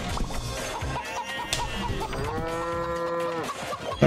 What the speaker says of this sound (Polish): teraz krowa już nie powinna móc w ogóle się ruszyć